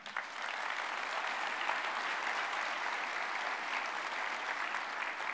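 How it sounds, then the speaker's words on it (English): A conference hall audience at a data-platform keynote applauds outgoing board members, with a thick, even wash of clapping that holds steady from start to finish with no voices over it. "Please give them a round of applause."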